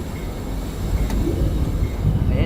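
A train rolls past nearby as a steady, dense low rumble with faint wheel and brake hiss, holding level and swelling slightly toward the end, with no voices.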